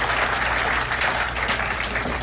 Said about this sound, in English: Give our co-host Christopher Smitherman a round of applause as well.